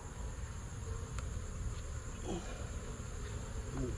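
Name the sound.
honey bees buzzing in an open hive during inspection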